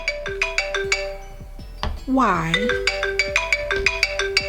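A cell phone ringtone plays a repeating melodic pattern of bright, sharp electronic tones, loud and close, briefly interrupted by a voice before resuming.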